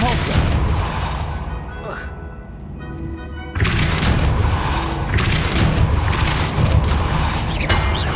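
A Depulso spell goes off in Hogwarts Legacy: loud booming, mechanical crashes and rumbling game effects, dipping briefly before a sharp burst and sustained clattering.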